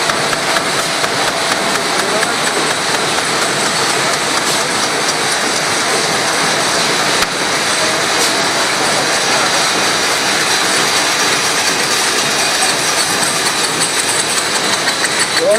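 A factory production line for body products runs at high speed, a loud, dense, continuous mechanical roar with no pause.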